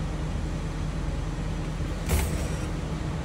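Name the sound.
school bus parking brake released, air brake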